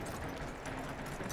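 Horse hooves clip-clop in steady rhythm in Red Dead Redemption II, a short, fairly faint run of hoofbeats over the game's ambient background with no talking.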